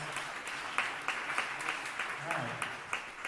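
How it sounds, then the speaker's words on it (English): Audience at a gala clapping in a round of applause, moderate and fairly close, with scattered louder claps and some voices murmuring in the room. "Can we give them a round of applause?"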